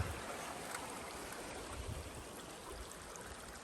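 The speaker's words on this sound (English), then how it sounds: "We just keep crossing the creek backwards and forwards as we go up." Creek water flowing steadily at the Lower Cascades in Litchfield National Park, heard up close as someone wades across it, a continuous broadband rush with soft splashing low in the mix.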